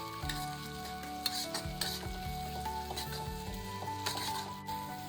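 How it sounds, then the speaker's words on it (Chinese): Sliced cured pork sizzles in a wok, fat rendering out, while a spatula scrapes and stirs in repeated close strokes over a steady frying hiss. "先把切好的腊肉倒在锅里面煸炒出油"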